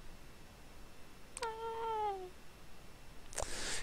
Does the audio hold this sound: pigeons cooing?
no